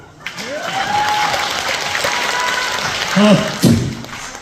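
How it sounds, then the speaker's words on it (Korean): Audience applause at a constituency activity report meeting, a dense steady wash of clapping throughout, with a voice calling out over it midway and a brief louder burst near the end. "자, 다 같이 박수를."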